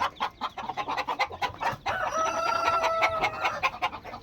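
Chickens and young chicks, a Rhode Island breed, clucking in a steady stream of short calls at close range. A drawn-out crow-like call follows, then more clucking, with no talk.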